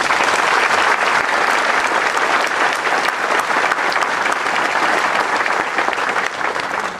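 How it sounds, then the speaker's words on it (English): Sustained loud applause from an audience at a veterans ceremony, many hands clapping evenly and steadily throughout, fading slightly at the very end. "And I'd ask all of you to give them a round of applause."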